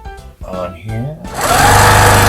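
A person talks briefly, then a small sewing machine starts stitching quilt fabric, running in a fast, steady, loud mechanical whir up close.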